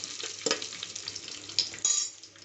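Whole biryani spices crackle briefly in hot oil in a pan, a short close sizzle broken by a few sharp utensil knocks.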